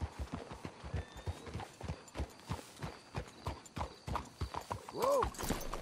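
In Red Dead Redemption 2, horses trot with a quick, rhythmic clip-clop of hooves on hard ground, accompanied by tack noise and a brief snort or whinny near the end, while characters talk over the hoofbeats.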